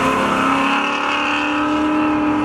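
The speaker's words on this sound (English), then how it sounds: "it's Johnson out to the early lead down through the corner in his 86 Camaro" 1986 Chevrolet Camaro racing at a spectator drag finale at a thrill show, engine roaring loud and steady under hard acceleration with a high, sustained tone.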